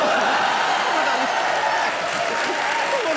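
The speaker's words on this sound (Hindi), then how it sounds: "ठोकताली" A studio audience at the comedy show Comedy Nights With Kapil breaks into sustained, dense applause that stays loud and even throughout.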